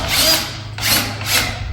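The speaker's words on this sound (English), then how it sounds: "I'm going to finish drilling these holes." Power drill boring holes in a car's metal for a 13,000 pound winch mount, three close, loud whining bursts with short pauses between them, no talking.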